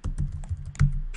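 Quick bursts of computer keyboard typing, a series of close, crisp key clicks in an uneven rhythm during PHP coding, with no voices.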